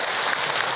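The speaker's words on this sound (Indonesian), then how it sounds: "Cilegon Banten, tepuk tangan." Clapping from a majelis ta'lim audience from Cilegon, Banten fills a short, dense burst of applause at a religious lecture on the meaning of prayer, loud and close, with no clear speech.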